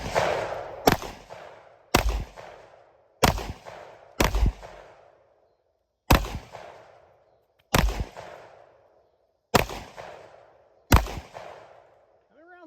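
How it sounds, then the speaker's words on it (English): Pistol shots fired with SIG V-Crown ammunition at vegetable targets: nine loud, sharp cracks at uneven intervals over about eleven seconds, each trailing off in a short echoing tail, with no talking between them. "we're going to be shooting some SIG V crowns, trying to tear up some"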